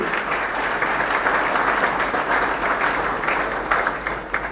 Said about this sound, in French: Nous pouvons applaudir.